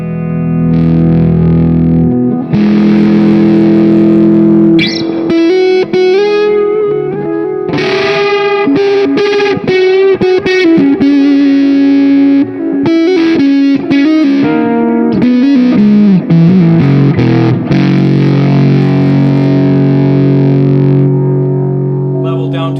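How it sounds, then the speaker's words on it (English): Electric guitar played through a heavy fuzz distortion pedal, thick sustained chords and riffs, loud and continuous, with some echo. "I can turn the level up on the guitar and we'll go into distortion"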